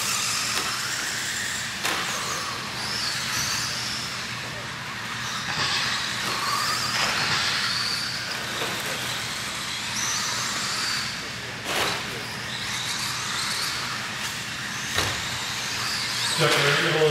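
2WD modified short course RC trucks race down the front straightaway at the 2012 Big Kahuna, their high electric whine rising and fading in repeated passes, with occasional squeals.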